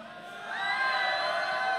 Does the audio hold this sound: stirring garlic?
no